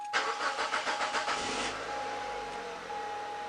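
A Mazda 626 engine cranks with rapid rhythmic churning, catches briefly on a shot of starting fluid, then cuts out, leaving a low steady hum; close and moderately loud, with no talk.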